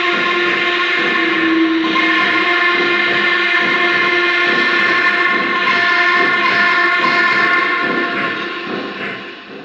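A Lionel VisionLine model of a Norfolk and Western Class A steam locomotive runs with a steady mechanical chugging and hiss, tones sustained throughout, loud and close, fading slightly at the end.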